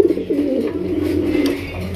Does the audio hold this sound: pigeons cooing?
yes